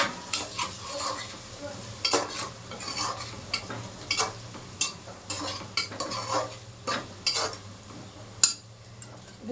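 A spoon stirs drumstick leaf curry in a pan, with repeated sharp scrapes and clinks of metal against the pan over a soft, steady sizzle; close and fairly quiet, with no voices.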